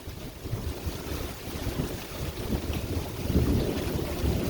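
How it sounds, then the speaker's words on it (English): Strong wind gusting and roaring into an outdoor microphone in Central Texas as a tornado threatens nearby, a continuous buffeting rush that swells louder toward the end, with no voices. "yeah, it's a lot of wind. A lot of wind."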